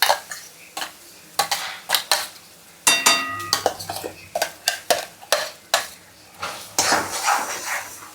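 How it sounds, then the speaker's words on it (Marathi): A spoon scrapes and clanks repeatedly against a pan while masala spices roast in oil for crispy pomfret fry, sharp irregular metallic strikes over a faint sizzle. "सो ह्याचं तेल असं वरती येईपर्यंत मी ह्याला भाजणार आहे."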